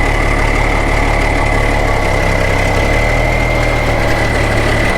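Tractor engine running steadily, a loud, dense, unbroken rumble with a constant drone and no change in pitch or rhythm, close to the listener and with no voices.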